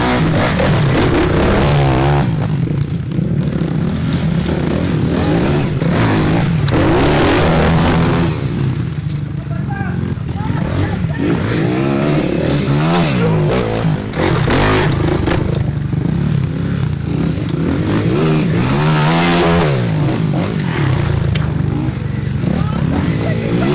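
Dirt bike motorcycles, a 125 and a 450, race close by with loud buzzing engines revving up and down in repeated surges, mixed with clattering and scraping.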